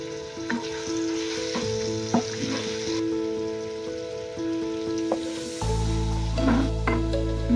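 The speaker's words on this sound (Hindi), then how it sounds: "यहाँ पर हमने जो है अदरक के जो पेस्ट की भुनाई है 2 मिनट तक कर ली है" Ginger paste frying in oil in a pan, a steady close crackling sizzle with occasional scraping stir sounds, growing louder and fuller near the end.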